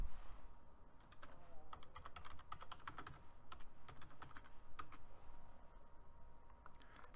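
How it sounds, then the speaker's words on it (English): Rapid clicking of keys on a computer keyboard, a quick irregular run of close, light taps at moderate volume with no voices over it. "I'm going to type in"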